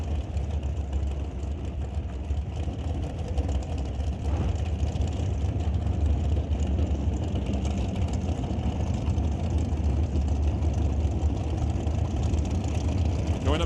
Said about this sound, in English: Next up, twin dragsters.